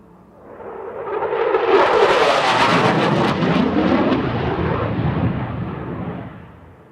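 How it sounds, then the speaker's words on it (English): Loud jet roar from a U.S. Air Force Thunderbirds fighter flying a knife-edge pass at the SUN 'n FUN Aerospace Expo 2022 air show, swelling as it passes close by, holding steady, then fading away. "Thunderbird 5 displays the historic Thunderbird emblem on the bottom of his aircraft with a knife edge pass"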